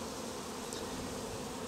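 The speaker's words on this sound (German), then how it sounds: "Die Bienen sind natürlich jetzt alle fleißig am Sterzeln und sagen, kommt rein hier." A honeybee swarm fans at the entrance of a hive box, a steady, dense insect buzz with no pauses, fairly quiet and close, with no talking.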